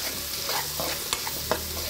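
Potatoes and carrots fry in a pan with a steady close sizzle, a few brief clinks and stirring scrapes rising over the crackle.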